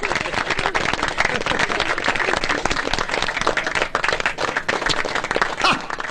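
An audience at a reunion event claps in a dense, crackling burst of many hands, loud and continuous for about six seconds, with crowd noise and voices mixed in.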